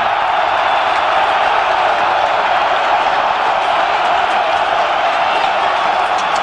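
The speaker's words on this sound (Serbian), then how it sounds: "i navijači Partizana znaju da proslave ovaj povedak." A football stadium crowd roars continuously after a Partizan goal against Livorno, a dense, loud, unbroken wall of cheering and applause with no distinct claps standing out.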